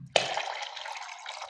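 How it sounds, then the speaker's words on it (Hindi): Water pours into a jug for an almond sharbat, a close, steady splashing stream that starts abruptly and runs on for just over a second. "अब हम जग को पानी से भर देंगे एक दफ़ा।"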